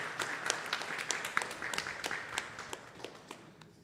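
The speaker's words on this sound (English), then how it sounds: "I think we could give him a round of applause for that." Congregation applause at a Sunday temple service in a Krishna Mandir: a fairly quiet, scattered round of clapping with distinct individual claps, gradually thinning out and fading over a few seconds.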